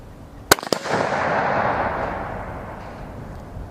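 A single sharp crack from a Savage Axis .308 rifle, loud and close, followed by a couple of quick echoes and a long fading rumble.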